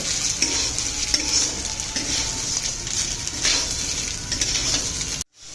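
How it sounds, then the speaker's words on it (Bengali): Marinated rice for Basanti pulao frying and being stirred in a pan over medium-high gas, a continuous loud sizzle with scraping stir strokes, cutting off abruptly at the end. "চালগুলোকে পাঁচ থেকে ছ মিনিট ভালো করে ভেজে নিতে হবে"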